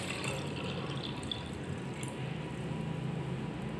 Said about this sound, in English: add normal water.